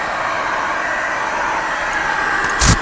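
An electric hair dryer blows a steady, close whooshing stream to dry primer on a leather Renault Clio seat in an upholstery workshop, running evenly throughout, with a brief loud bump near the end.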